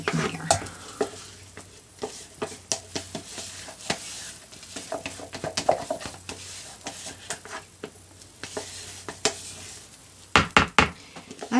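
A spatula stirs a thick moringa clay soap mixture made with organic ingredients, giving a steady run of wet, scraping strokes and soft clicks against the container, close and moderately loud, with no talking.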